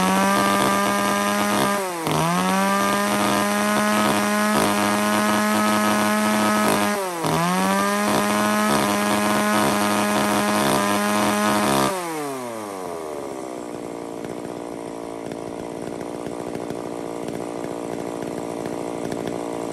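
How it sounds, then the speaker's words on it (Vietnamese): Echo Kioritz R14 chainsaw, a used Japanese-market saw without a decompression valve, running close and loud at steady high revs, with two brief dips before it winds down to a lower idle. "Hiệu cưa xích Echo Kyorit"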